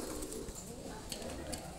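A pair of breeding Royal Teddy pigeons coo softly in a loft, low murmuring calls repeating over a faint background hiss.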